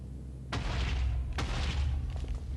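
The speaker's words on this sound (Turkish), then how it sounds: "Ateşliyoruz dinamiti." Two deep, booming dynamite explosions in quick succession in Minecraft, each followed by a heavy low rumble that lingers in the background.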